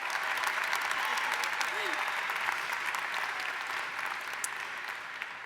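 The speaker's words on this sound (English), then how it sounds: "Can we give him one more round of applause?" Sustained applause from a large audience at an education award event honouring Senator Lamar Alexander, a dense steady wash of clapping that holds throughout and tapers slightly near the end.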